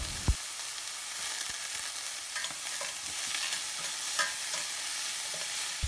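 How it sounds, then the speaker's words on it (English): Small sambar onions, chopped tomato and garlic stirred in a hot pan, with a steady bright sizzle and occasional soft knocks of the spoon against the pan throughout. "Give a nice mix and cook it for minimum 2 minutes."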